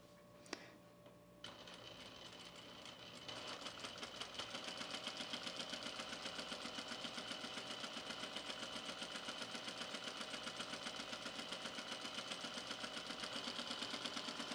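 A serger stitches the side seam of a T-shirt, starting after a short pause and settling into a quiet, steady, rapid mechanical whir with fine ticking that continues evenly to the end.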